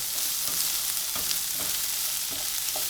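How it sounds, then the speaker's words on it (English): Tempeh, onion and finely chopped ginger frying in a pan: a loud, continuous hiss of sizzling oil, close up, with soft intermittent scrapes of stirring throughout. "I'm just going to mix that through and let that fry for about 5 minutes while stirring."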